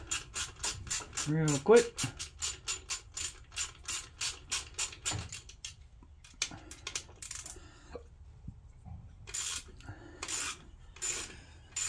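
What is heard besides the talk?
Allen head ratchet removing throttle body screws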